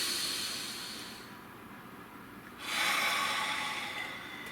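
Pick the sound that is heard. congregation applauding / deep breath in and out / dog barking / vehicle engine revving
deep breath in and out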